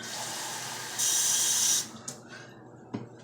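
Water poured into a blender for a composter pudding of eggs, lemon wedges and leftover greens: a steady hissing pour that swells louder, then stops, followed by a couple of small clinks.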